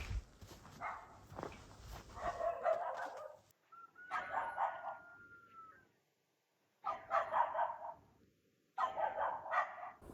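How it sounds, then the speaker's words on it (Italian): A dog in a snowy village barks in several bursts of rapid barks separated by short pauses, fairly close and clear against a quiet morning background. "C'è un cane."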